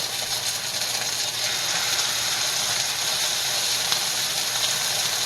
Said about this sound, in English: That's a nice little sizzle going on over there.